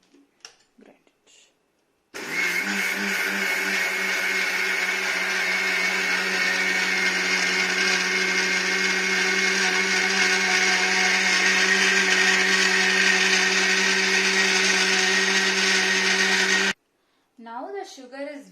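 Kitchen mixer grinder grinding sugar, a loud sustained whirring motor running for about fifteen seconds before cutting off, with brief voices just before and after.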